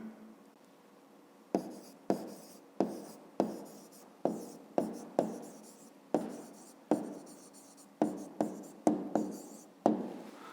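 A pen writes an answer by hand on paper in a quiet room, giving a series of short, close scratching strokes in an irregular rhythm with brief pauses between them, no talking.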